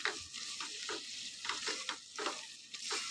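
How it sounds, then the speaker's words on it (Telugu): Onions frying in oil for a mutton gravy, a constant close sizzle with repeated scraping stir strokes at a steady rhythm, no talking. "ఇట్లా మంచిగా మనం ఇట్లా ఆయిల్లో ఇట్లా ఫ్రై చేసుకోవాలి"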